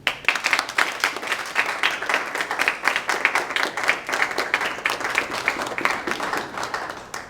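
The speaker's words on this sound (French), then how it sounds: "je vous demande de faire de tonnerre d'acclamation pour notre chère Marie-Thérèse" A debate audience at an education event breaks into sustained applause, dense steady clapping from many hands filling the room for several seconds without letting up.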